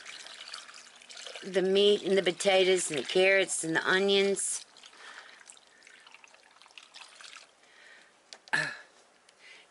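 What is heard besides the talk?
pouring liquid over beef and vegetables in crock pot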